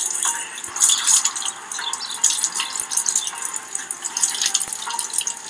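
Steady hiss of running water, like a shower or tap, going continuously at a fairly loud level with faint drips and splashes, and no voices.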